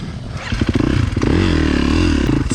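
A motocross bike ridden on a trail, its engine revving and bogging in short bursts with clattering and thumps from the solid suspension, close and loud throughout.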